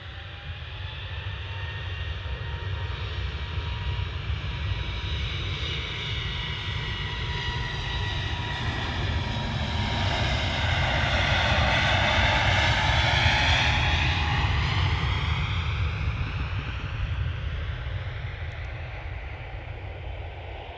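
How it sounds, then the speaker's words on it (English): A Turkish Airlines Airbus A321neo jet takes off at Manchester Airport, its engine roar building loud and close with a sweeping pass midway before holding a steady rumble, no voices present. "this Turkish Airlines A321 Neo, TC LPM on a turn and burn"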